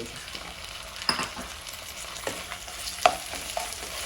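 Mutton frying in a pan for pulao, a close, continuous sizzle and crackle broken by a few sharp pops and spatula scrapes, no voices.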